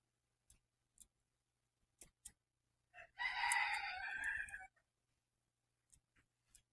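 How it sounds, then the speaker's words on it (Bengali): A single chicken near a sandy roadside gives one drawn-out call of a second and a half, standing out from quiet surroundings broken only by a few faint ticks and knocks. "এই দেখো চেনা মুরগি"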